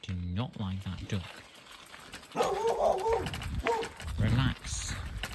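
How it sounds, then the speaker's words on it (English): A dog barks and whimpers in short bursts nearby while people talk over it outdoors in a Danish town. "Why is keeping a dog like that even allowed?"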